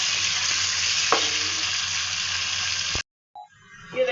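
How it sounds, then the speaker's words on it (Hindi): Tomato and green chillies frying with ginger and garlic in a pan make a steady, loud sizzle with a couple of clicks from stirring. The sizzle cuts out abruptly near the end and leaves brief quiet and faint clatter. "इसको भी हम भूनेंगे।"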